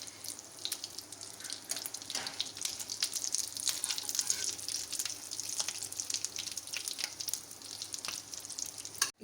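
Sandwiches for a kids' lunch box fry in hot oil, giving a steady, fairly quiet crackling sizzle scattered with sharp little pops, with no voices.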